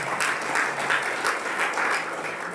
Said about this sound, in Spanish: Denle fuertes aplausos, Señor.